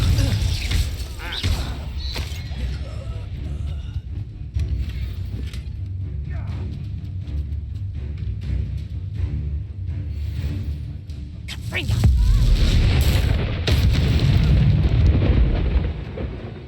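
A Confringo fire spell bursts in Hogwarts Legacy, a loud booming blast that swells near the end over a low rumble of game sound.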